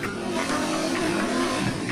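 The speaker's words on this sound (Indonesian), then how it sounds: "suara motor." A motorbike passes outside a living room in a home, its steady engine drone holding at an even level for the whole stretch, muffled by walls, with no talking over it.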